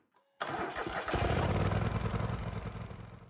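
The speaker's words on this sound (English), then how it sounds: "Before the engine warmed up, I performed a second start" A Kohler engine's electric starter cranks briefly on a second start before the engine has warmed up, then the engine catches and settles into a loud, steady running clatter close by, with no talking.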